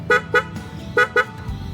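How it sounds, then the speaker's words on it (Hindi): Loud two-tone motorcycle snail horn blasts in two pairs, short sharp honks with brief gaps, close by with a faint engine hum underneath. "तो ये शिफ्टर का काम है, इस पे दूसरे हॉर्न्स और इसके ऊपर स्नेल हॉर्न्स।"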